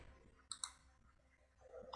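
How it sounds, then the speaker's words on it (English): Computer keyboard typing heard as a few sharp, faint clicks spaced apart in a quiet room, with a softer tap near the end. "I am typing profit here."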